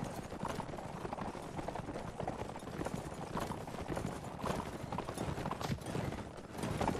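Horses galloping in Mount & Blade: Warband, a dense continuous clatter of hoofbeats from several mounts, steady and moderately loud, with no speech over it.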